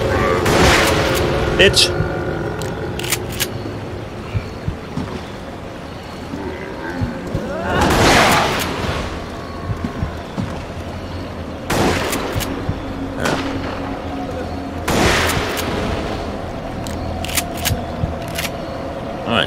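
Shotgun blasts in a video game, several loud booming shots spaced a few seconds apart, with someone talking and exclaiming in between.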